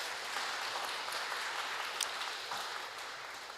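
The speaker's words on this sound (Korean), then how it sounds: "우리 연주해 주신 선생님에게 박수 한번 하시겠습니다." Church congregation at a Sunday morning worship service applauding a pianist: a steady wash of many hands clapping, fairly distant and soft, continuing without a break.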